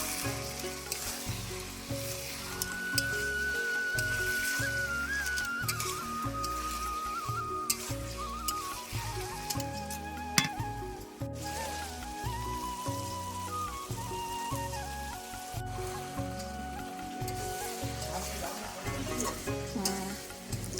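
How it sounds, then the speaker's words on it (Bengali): Marinated meat is fried and stirred in a spice paste that has released its oil, for a New Year holiday dish. Steady sizzling runs throughout under prominent background music, with occasional stirring scrapes. "এখন আমি মাংসটাকে দিয়ে ভালো করে কষিয়ে নেব।"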